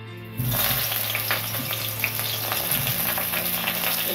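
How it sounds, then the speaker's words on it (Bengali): Eggplant pieces dropped into hot oil left from frying lentil dumplings, a loud, dense sizzle that bursts in suddenly and holds steady and close to the end. "এই তেলেই আমি বেগুনগুলোকে একটু ভেজে নেব।"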